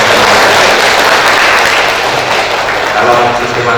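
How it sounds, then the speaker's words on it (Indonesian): Audience applause fills a book discussion event on cooperatives, a dense, steady clatter of many hands clapping close and loud throughout, with a faint murmur underneath. "Tepuk tangan untuk seluruh ide dan konteks."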